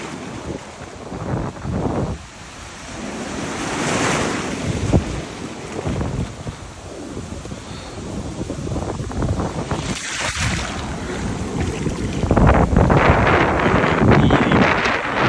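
Sea waves and gusting wind on the North Sea beach at Blankenberge, Belgium: a continuous rushing wash of surf with heavy wind buffeting the microphone, rising in strong surges, with no talking.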